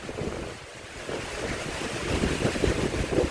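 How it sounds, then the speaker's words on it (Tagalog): Strong typhoon wind roars and buffets the microphone in gusty, continuous surges in the storm's aftermath, a dense rushing noise that swells louder toward the end, with no talking. "Grabe ang hangin guys, puto kayo."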